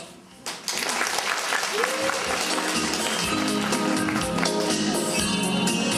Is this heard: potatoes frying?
no